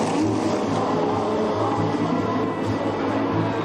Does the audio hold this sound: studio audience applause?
no